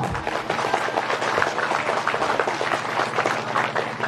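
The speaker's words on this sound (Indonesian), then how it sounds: "Ini keren, tepuk tangan dulu lah." Audience applause at an Islamic sermon for young people, a steady dense patter of many hands clapping at moderate volume for about four seconds.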